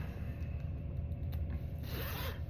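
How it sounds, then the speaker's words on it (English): Zipper being pulled up on a high pile fleece sweater, a close, quiet ratcheting scrape that rises to a brighter zip near the end. "So we'll go ahead and zip this up."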